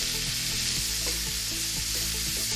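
Lamb pieces and mushrooms frying in fat in a pan while being stirred, a steady loud sizzle throughout with repeated scraping strokes of the spoon, no voices.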